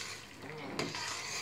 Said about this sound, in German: Und ich bin immer noch am Brutzeln,